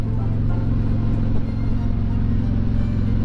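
A Harley-Davidson Tri-Glide motorcycle cruising on a highway toward North Carolina, a loud, steady engine rumble with constant wind roar, unbroken for the whole stretch.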